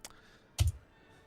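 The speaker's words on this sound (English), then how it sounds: "I can hear him pounding on his keyboard." Heavy keyboard pounding by a remote podcast participant, heard as two faint key clicks followed by one louder thumping smash on a computer keyboard, with no talk.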